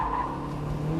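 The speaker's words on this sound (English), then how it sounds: "Smoky showboat drifts if you want" A turbocharged Mazda Miata drifting, its engine droning loud and steady with a sustained tire squeal layered over it, continuous through the whole short burst.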